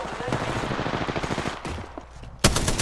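Rapid automatic gunfire in an online multiplayer shooter game, dense bursts over a couple of seconds ending in a sharp loud volley, with voice chat from players in the background.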